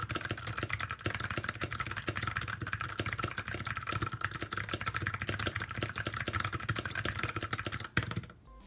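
Rapid, continuous typing on a gray KBD75v1 mechanical keyboard fitted with box pale blue switches, close up with crisp, dense clicks in a steady stream, stopping abruptly near the end.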